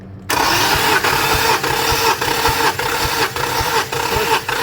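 Infiniti M37 engine cranking during a compression test, a loud starter grind that begins abruptly and keeps an even pulsing rhythm of compression strokes throughout.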